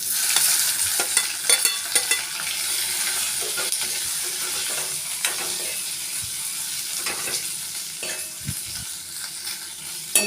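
Boiled potato pieces sizzle and fry in a pan while being stirred, giving steady close hissing with repeated scraping and clinking of a spoon against the pan.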